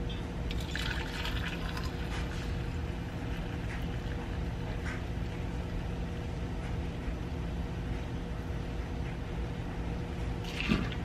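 Boiling water poured out over a kitchen sink, a steady, loud rushing splash running unbroken for about eleven seconds, with a few brighter spattering bursts near the start and end.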